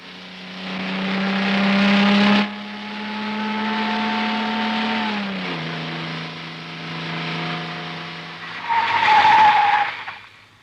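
A car with an overheating radiator pulls away, its engine droning at a steady pitch, then shifting down before a sharp tyre squeal near the end, loud and close with no talking.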